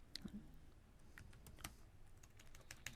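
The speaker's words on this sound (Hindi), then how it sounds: "क्या हो रहा है कीबोर्ड के साथ?" Someone types on a computer keyboard in a short burst of quick, irregular key clicks, close and fairly quiet, with no one talking.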